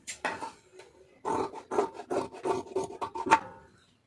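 Scissors snip through blouse fabric to cut out a sleeve, giving a series of close, dry rasping strokes in a steady rhythm with short pauses between cuts.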